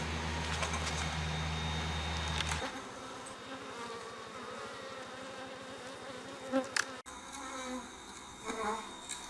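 Honeybees buzzing at a backyard hive during an inspection, a steady close insect drone with faint background noise and a brief disturbance near the middle.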